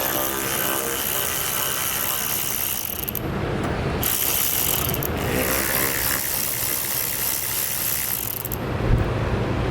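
A ratchet with a 5/16 socket loosens the roll pan bolts on a 2021 Jeep Gladiator, rapid clicking pawl strokes in bursts with brief pauses between, close and fairly loud.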